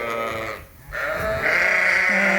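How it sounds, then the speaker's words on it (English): Sheep and lambs bleat on a farm during lambing season, several overlapping calls close to the microphone forming a steady chorus across the whole stretch, with a brief dip in the middle. "we're going to feed these underfed lambs"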